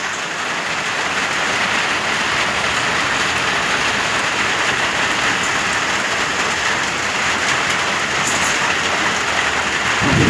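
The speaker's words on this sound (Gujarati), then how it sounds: "ફૂલ વરસાદ ભાઈ ચાલુ થઈ ગયો" Heavy rain pours steadily over a village, a dense, continuous hiss of drops drumming on roads and roofs, loud and unbroken throughout with no voices.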